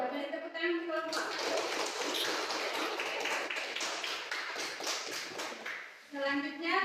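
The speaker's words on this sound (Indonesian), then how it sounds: "Beri tepuk tangan untuk kelompok." A classroom group of students applauds a student group after their presentation, with dense, continuous clapping that lasts about five seconds. Talk is heard before and after the clapping.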